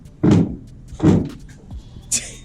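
Three heavy thunks from a stuck side door on a commercial van being forced, two loud low bangs close together followed by a sharper rattling clunk, with no talking.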